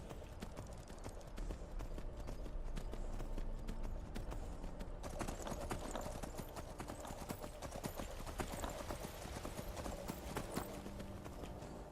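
Horse hooves clip-clop steadily in Skyrim, a fast, continuous patter of hoofbeats over a dense ambient game soundscape, close and fairly loud for the whole stretch with no talking.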